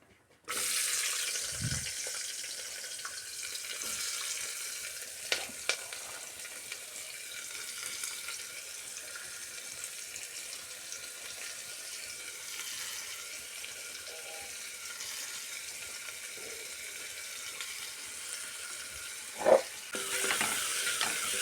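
Sliced onions frying in hot coconut oil in a pan for a soya chunks curry, a quiet steady sizzle with occasional clinks and stirring sounds, with no talking.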